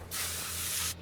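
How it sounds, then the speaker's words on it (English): A steady, close hiss of penetrating oil sprayed from a can onto a frozen wheel bolt on a Corvette C8 in Car Mechanic Simulator 2021, one continuous burst of about a second that starts and stops abruptly. "Spray the good stuff."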